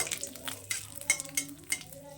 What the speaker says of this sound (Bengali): তেলের মধ্যে দিয়ে দিচ্ছি আমি দুটো শুকনো লঙ্কা গোটা